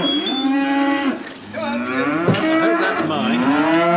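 Several calves moo loudly and close together in a barn as a herd of 140 is brought in for winter, long drawn-out bawls overlapping one another with barely a pause.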